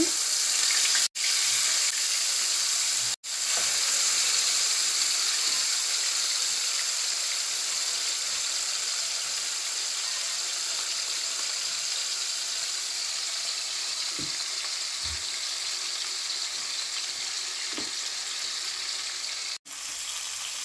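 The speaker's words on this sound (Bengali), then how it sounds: "ফোড়নে কালো জিরা তেল গরম হয়ে গেছে মাছ দিয়ে দিচ্ছি" Poa fish frying in hot oil seasoned with black cumin, a loud continuous hiss and crackle that runs the whole time, close by, with only a few brief dropouts and no talking.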